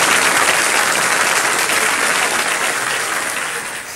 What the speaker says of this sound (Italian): ragazzi, ma fate un applauso